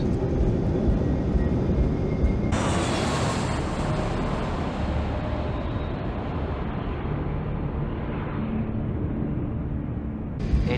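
An Air Canada airliner's engines roar loudly in reverse thrust just after landing, a broad sustained rumble with a sharp rise in intensity that slowly tapers off.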